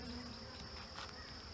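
Honey bees buzz steadily inside a package-bee hive box, a dense continuous drone close by with no talking.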